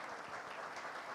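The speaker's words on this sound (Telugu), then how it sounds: "Every one has to clap for her." Audience applause for an actress at a Telugu film pre-release event, a faint, steady wash of distant clapping throughout.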